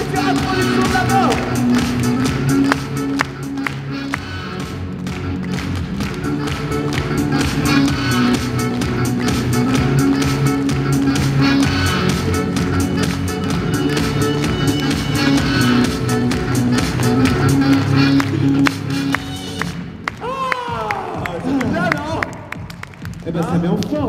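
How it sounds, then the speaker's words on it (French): Audience at a French magic show applauding steadily, a dense, loud wash of clapping sustained throughout with cheers and voices over it and a swell of shouts near the end. "Allez, plus fort, mesdames et messieurs, applaudissements d'abord."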